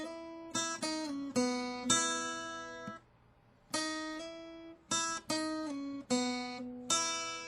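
Acoustic guitar playing a lick, open strings plucked in short, clear, close phrases with a brief pause midway, no talking.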